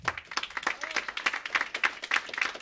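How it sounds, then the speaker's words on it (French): An audience at an awards ceremony applauding, a short, fairly close burst of many hands clapping in quick, uneven rhythm, with no speech over it. "On peut l'applaudir pour ça."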